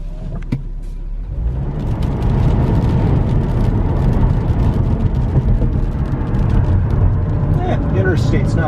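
Low, steady road rumble and tire drone from inside a car cruising along a lightly trafficked interstate on a Sunday drive, the engine noise rising slightly as it gets under way.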